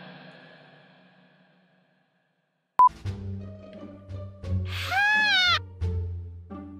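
A video game sheep bleats loudly in a wavering, rising cry after a sharp click, surrounded by game tones and effects with no talking.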